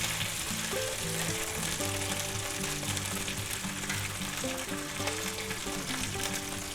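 Shrimp spread out in a pan fry with a continuous, moderately loud sizzle and crackle, with tonal music playing steadily underneath and no talking.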